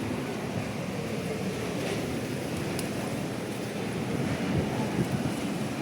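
Strong wind ahead of a storm on a hot day roars steadily across the microphone as a dense, unbroken rush with no voices, lasting several seconds.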